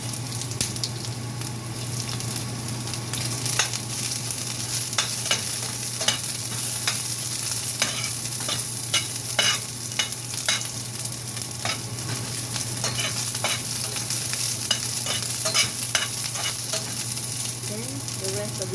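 Onion being stir-fried in a pan after garlic, a continuous close sizzle broken by regular scraping strokes of a spatula, moderately loud and alone with no talk.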